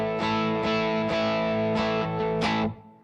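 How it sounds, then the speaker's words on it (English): Electric guitar played through an IR-2 with reverb switched on and feeding a stereo delay, a handful of distorted chords struck about every half second, each swelling into a lush wash before the last one cuts off and trails away. "That's with the reverb on."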